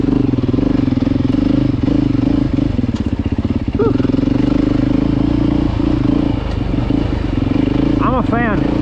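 A brand-new Beta dirt bike engine idling and running close by, a loud steady low rumble with clattering, a few rev blips near the end, and a person talking over it.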